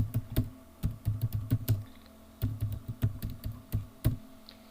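Someone types a school address on a computer keyboard, the close keystrokes clicking in quick irregular bursts with short pauses between words, with no talking.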